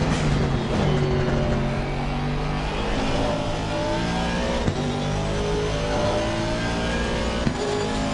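A race car engine during an endurance race holds a loud, constant drone close by, bouncing against the rev limiter with steady tonal buzzing and a couple of small knocks, with no talk.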